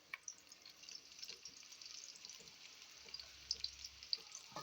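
Chopped, washed onion and garlic frying in a pot make a faint, steady hiss dotted with small crackles and pops, with no talking.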